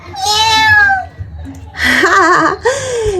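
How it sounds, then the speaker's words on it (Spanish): A small kitten gives a high, drawn-out meow, followed after a short pause by two more wavering meows, close and clear. "Acabo de ver a un lindo y precioso gatito."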